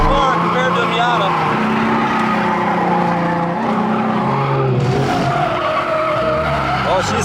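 A Ford Mustang drifting, with its engine roaring steadily and tires squealing continuously and loudly, while a passenger talks over the noise.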